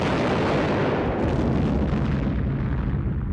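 Wartime artillery fire rumbles continuously as a dense, loud roar of booms and blasts blended together, with no separate voices over it.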